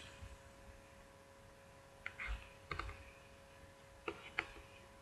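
A computer mouse clicks a few times at close range, faint and crisp over a quiet electrical hum, while a Dolibarr ERP download is chosen on screen.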